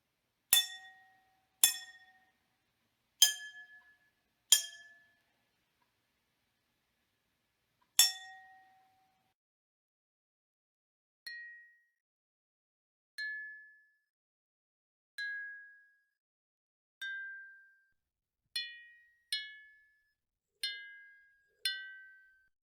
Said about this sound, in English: we compare the results of a real water xylophone to the one simulated by our algorithm based on varying amounts of liquid contained by each glass